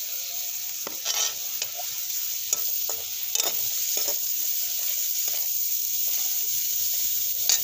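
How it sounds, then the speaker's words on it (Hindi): Spices and salt fry steadily in hot oil in a pan for chutney, with a constant close sizzle broken by scattered scraping and stirring sounds. "तो इसको हम फ्राई कर लेंगे"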